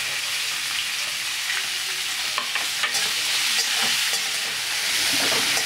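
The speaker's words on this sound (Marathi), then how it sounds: "कांदा गुलाबी परतून घ्यायचे। टोमॅटो पण टाकून देऊया।" Chopped onion and tomato sizzle steadily in a hot pan while being stirred, a continuous loud frying hiss with small scraping clicks, no voices.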